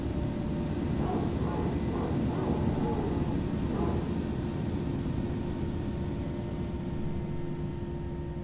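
Number 2 engine of an Airbus A319 spools up in a flight simulator game, a steady loud turbine roar with a faint high whine, holding even and constant from start to finish.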